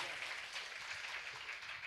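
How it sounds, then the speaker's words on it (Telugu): Congregation at a church sermon clapping together, a steady dense wash of hand claps heard from some distance and fairly faint, with no break through the short stretch. "కొట్టండి చప్పట్లు గట్టిగా"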